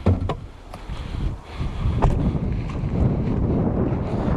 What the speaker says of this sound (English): It is quite windy today.